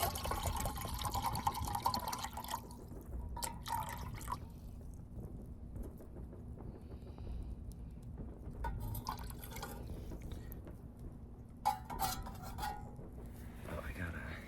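Water is poured sparingly into a mess tin to make bouillon at a night camp in a WW2 foxhole, heard as a soft, intermittent trickle with metallic clinks and low background noise.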